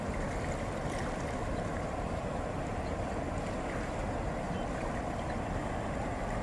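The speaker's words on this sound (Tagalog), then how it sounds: "Lakas ng current oh. Lakas ng karat ng tubig." A strong river current rushes steadily past, a dense, continuous roar of moving water close by with no breaks or pauses, broadband and fairly loud throughout.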